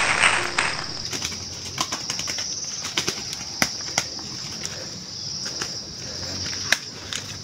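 A manatad bird caught in a trap beats its wings in repeated bursts of flapping, close and fairly loud, with soft clicks and bumps in between and insects chirping steadily behind.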